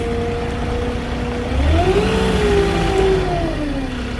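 A car engine revs and rumbles past nearby in morning street traffic, rising in pitch midway, with steady road noise throughout.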